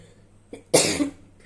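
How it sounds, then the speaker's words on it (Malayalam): A single person coughs once with a short harsh burst, preceded by a faint throat sound, close to the microphone in a quiet room at night. "ഈ ചുമ മാറിയിരുന്നാണ് പിന്നെയും തുടങ്ങിയിട്ടുണ്ട്"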